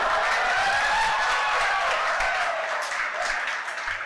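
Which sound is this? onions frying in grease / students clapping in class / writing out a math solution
students clapping in class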